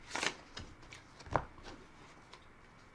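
Tarot cards being riffle shuffled, a quick fluttering burst of card edges followed by a sharp bridge slap and a few quieter taps, close and soft.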